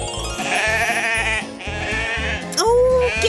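A prize-winning farm show sheep bleats loudly and repeatedly, wavering cries close by over a steady rhythmic musical backing.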